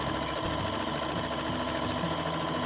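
A sewing machine stitches fabric Christmas stocking pieces together, a fast, steady mechanical chatter running continuously at close range with no pauses or voices.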